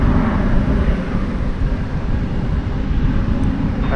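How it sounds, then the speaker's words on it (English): A Spirit Airbus A320 jet passes at DFW Airport with a loud, continuous low roar, mixed with gusty wind buffeting the microphone. "There is Spirit Flight 2902. It's going to Phoenix, Arizona. An Airbus A320."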